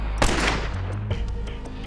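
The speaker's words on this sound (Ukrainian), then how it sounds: "Потім Чойон стріляє з цього пістолета навмання, сіє паніку серед мирних жителів." Sharp pistol shots crack out, one loud blast followed by another about a second later, with echoing noise trailing behind.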